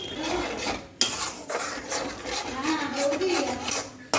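A spatula rasps and scrapes steadily against a pan as spice paste with a little water is sautéed, a continuous close scratching with a sharp clack near the start, and a voice speaks faintly underneath.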